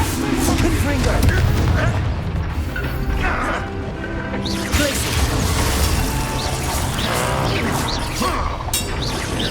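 In Hogwarts Legacy on PS5, a Confringo blasting spell erupts amid dense combat noise, loud crashing booms, whacks and mechanical clattering running nonstop at close range.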